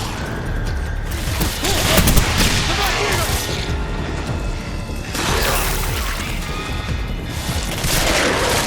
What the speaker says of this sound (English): it was particularly disgusting to watch simple gunfire dissect Soviet soldiers into a bloody pulp